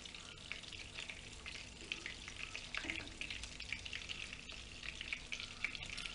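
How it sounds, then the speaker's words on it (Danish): Danish frikadeller meatballs fry in a pan, a steady, close crackling sizzle with small pops and a few light scraping stirs, continuous throughout with no talking. "Der kan man ret hurtigt komme om ved at få stegt frikadeller på den måde her."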